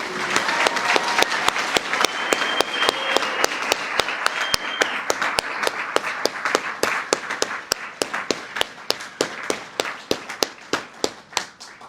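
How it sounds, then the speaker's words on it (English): An audience at a paramedic graduation ceremony claps in a sharp, rhythmic round of applause. The claps come as distinct, fairly regular beats that slowly thin out and soften, with faint talk behind them. "Let's give the graduates one more round of applause."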